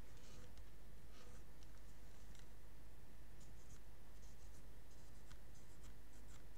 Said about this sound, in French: Faites le tour avec votre crayon.